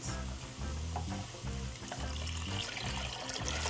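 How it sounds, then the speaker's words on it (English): Water pours and splashes into a pot with a hissing, bubbling rush, steady over several seconds, close up with no voices. "so we'll add our water"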